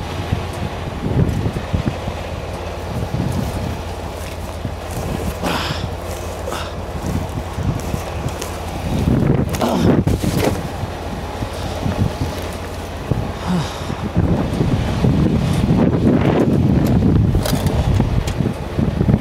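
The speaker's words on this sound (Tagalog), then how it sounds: "ang lakas ng hangin mga kapatid, no?" Strong wind roars and gusts outdoors near a tarp, buffeting the microphone with a loud, continuous low rumble that surges in places throughout.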